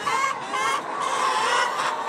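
Older free-range hens in a henhouse shed during egg collection, a dense, steady flock chorus of overlapping clucks and honk-like calls continuing without a break, fairly close and moderately loud.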